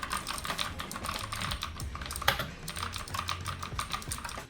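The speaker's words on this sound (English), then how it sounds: "this one comes with the blues switch, which is known to be very clicky and tactile" Fingers type on a mechanical keyboard fitted with blue switches, producing rapid, crisp clicky keystrokes in an irregular close rhythm, heard alone without any talk.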